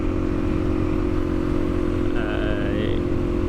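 A 2022 Suzuki DRZ400 single-cylinder four-stroke motorcycle idles steadily with a low, even thrum, loud and close, with a faint rising whine near the end.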